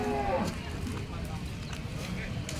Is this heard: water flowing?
no